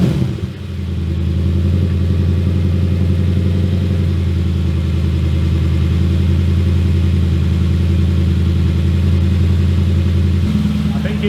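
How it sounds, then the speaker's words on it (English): The V8 engine of a Porsche Cayman during its first cold start, a loud, close, steady low rumble at fast idle with a slight pitch shift near the end. "First official cold start for the Porsche Cayman V8."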